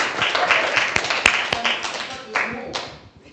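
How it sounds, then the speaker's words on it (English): A church congregation at an Advent service claps briefly, a short burst of scattered hand claps fading out within a few seconds. "Yeah, that deserves a clap."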